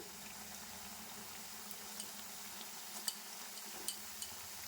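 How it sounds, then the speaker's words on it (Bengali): Palm-fruit malpua fry in oil, browning to a reddish colour, with a faint, steady bubbling sizzle and a few soft ticks and clicks, no voices. "আমি একটু লাল লাল ধরনের করব তার জন্য আর একটু ভেজে নিচ্ছি"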